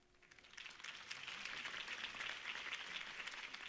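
Crowd applause at a campaign speech for Harvey Dent in the Batman Telltale video game, a faint, steady wash of many hands clapping that swells slightly and holds throughout.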